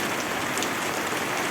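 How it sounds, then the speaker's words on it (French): Steady rain falling outside in a flood-prone spot, a dense, even hiss of drops on surfaces with no pauses, fairly close and unbroken for the whole moment. "Il pleut bien même."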